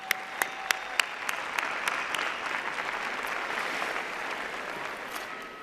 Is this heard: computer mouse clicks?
no